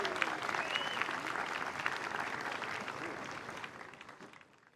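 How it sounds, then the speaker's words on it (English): An outdoor audience at a US Army Jazz Ambassadors traditional jazz band concert in the park claps steadily, a broad wash of applause that slowly thins and fades away toward the end. "Keep clapping while I pull my music up, please."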